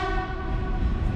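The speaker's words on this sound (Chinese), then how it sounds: "终于等来了越南火车。" A Vietnamese train pulls into Hekou station on the China–Vietnam border, its horn sounding a steady sustained tone over low rumbling rail noise, loud and close throughout.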